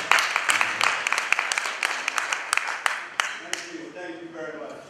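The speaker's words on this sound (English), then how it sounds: "Let's give him another big round of applause" Loud sustained applause and clapping from a conference audience greeting Mr. Cyril Claxton of Electronic Services, with sharp individual claps standing out over the steady wash of hands before fading toward the end.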